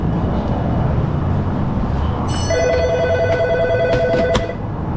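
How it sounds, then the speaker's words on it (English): A telephone rings with a bright, electronic trilling tone over steady mechanical background noise in a garage during rear air-conditioning evaporator work, sounding a couple of seconds before cutting off. "Phone is ringing."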